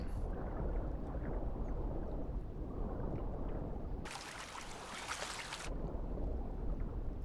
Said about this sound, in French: Ah, purée, c'est une vraie cascade.